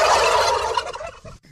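A close, loud burst of turkey gobbling, a rapid warbling rattle that trails off within a second or two.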